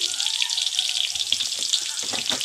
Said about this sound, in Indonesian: Minyak sedang dipanaskan.